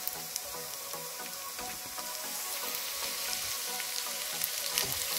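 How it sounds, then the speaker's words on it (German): Bacon added to a pan of softened garlic and onions for a forest mushroom fry-up, crackling and sizzling steadily with dense popping, close and continuous, with no voices. "Nun kommt unser Speck dazu."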